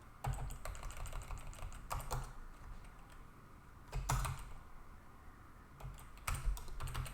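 Typing on a computer keyboard while writing code, with bursts of fast, close keystroke clicks separated by short pauses and faint room noise in between.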